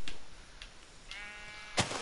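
A sheep bleats in Minecraft, a single wavering bleat that comes in faintly against quiet background noise, with a few soft clicks nearby.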